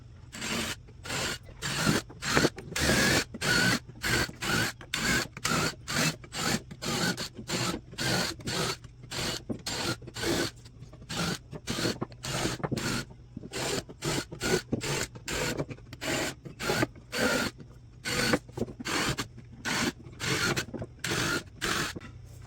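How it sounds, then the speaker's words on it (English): Rapid, continuous bursts of a power drill boring pilot holes in pine, short pulses repeating steadily with a grinding, rasping texture throughout. "So let me drill those pilot holes now."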